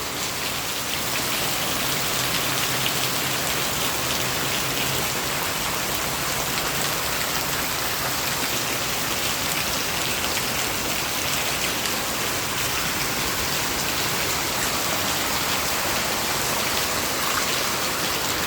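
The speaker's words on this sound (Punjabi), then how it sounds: "ਬਹੁਤ ਭਾਰੀ ਮੀਂਹ ਆ ਗਿਆ" Heavy, needle-fine rain pours down in Sri Ganganagar district, Rajasthan, on an afternoon, making a dense, steady hiss that holds unbroken and loud throughout, with no voices.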